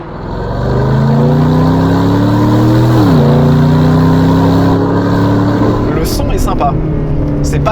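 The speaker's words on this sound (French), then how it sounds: "pour un moteur biturbo et surtout par rapport à d'autres voitures qui l'équipent, notamment la MG GT S, pas la R, ils ont fait un beau travail sur la sonorité à l'intérieur" Aston Martin DB12 twin-turbo engine heard from the cabin, a loud steady drone that climbs in pitch, dips briefly at a gear change around three seconds, then rises again, with someone speaking over it.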